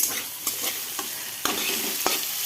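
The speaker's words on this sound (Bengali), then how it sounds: "এখানে আলু করলা ভাজা করছি" Potato and bitter gourd fry steadily in a home kitchen pan, a continuous sizzle broken by a few sharp scraping stirs of the spatula, close and moderately loud, with no talking.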